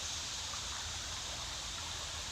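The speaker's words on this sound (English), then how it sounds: "With the stream, with the water flowing through." A woodland stream flowing steadily, a soft continuous rushing and bubbling of water, close and even with no other sounds.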